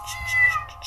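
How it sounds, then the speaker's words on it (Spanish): A cat meows in a video game, a short, clear mew over a faint steady game hum. "Ay, sí es un gatito."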